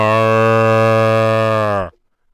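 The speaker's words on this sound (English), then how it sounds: "That's a cow." A cow gives one loud, sustained, low moo that holds steady for nearly two seconds, then stops abruptly into silence.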